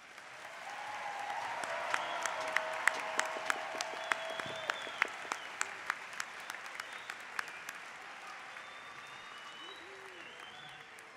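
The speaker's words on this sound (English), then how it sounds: "let's give our graduates one final round of applause" A commencement audience at SIUE's 2017 fall ceremony gives the graduates a final round of applause, a broad wash of clapping with distinct sharp claps standing out, slowly thinning toward the end.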